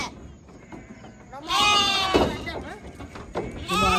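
Young goats bleat nearby in several wavering cries, mostly in the second half, over a noisy background with people talking.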